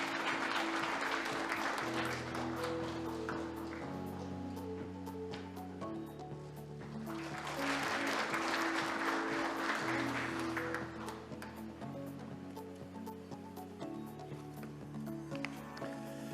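A conference audience applauds to welcome presidential candidate Lee Jae-myung to the stage at a Korean forum; steady clapping swells in two waves over upbeat stage music with a pulsing bass line, and no one speaks.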